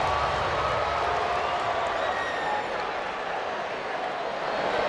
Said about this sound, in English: Crowd suddenly, after cheering, comes into a hush